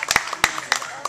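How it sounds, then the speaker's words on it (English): A few tour passengers on a river boat ride clapping for a boy and a dog, sparse uneven claps close by with a voice underneath. "Got a round of applause for Ezra and the dog."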